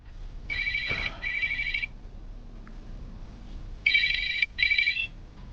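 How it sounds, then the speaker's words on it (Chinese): A phone rings in two bursts separated by a pause, each burst a doubled electronic trill, fairly loud against a quiet, faintly humming room. "不曾想电话居然在皮箱里响了。"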